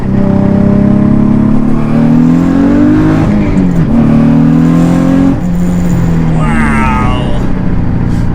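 A heavily modified twin-turbo Nissan Z accelerates hard, heard loud from the cabin as the engine note climbs steadily, dips at a gear change around midway, and pulls again, with a brief voice over the drone.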